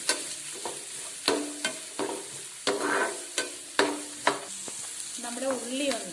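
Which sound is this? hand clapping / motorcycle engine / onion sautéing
onion sautéing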